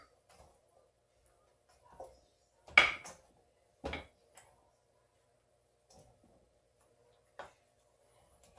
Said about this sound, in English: Just gonna put this in my baking dish just like this.